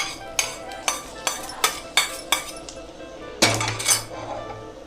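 Fried cashews and almonds tipped into carrot halwa in a pan, with a spoon tapping and scraping the metal pan in a steady series of clinks, then a louder clatter and scrape near the end, no talking.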